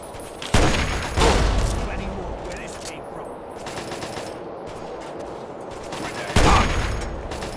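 Automatic gunfire in Fallout 3's Operation: Anchorage add-on, with loud, close bursts at the start and near the end over a steady layer of battle noise, and a player talking throughout.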